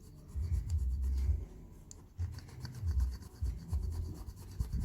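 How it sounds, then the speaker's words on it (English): A burnisher or teaspoon rubs back and forth along the edge of a metal jewellery piece, giving steady close scraping strokes in an even rhythm, with no talk. "I'm going to take my burnisher or teaspoon and I'm going to rub it"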